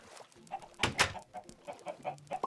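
Minecraft chickens on a farm clucking in short, scattered bursts, with a louder flutter in the middle, fairly faint and close, no talk over them.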